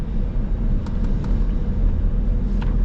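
A 2025 Ford F-150 Tremor pickup with the 5.0 V8 cruises on the road, giving a steady low rumble and road noise from inside a well-insulated cab, with no talking.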